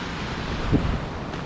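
Steady rush of water flowing at a traditional communal washing place in Portugal, where women once washed clothes; a continuous broadband wash, close and even, with a slight swell midway and no talking.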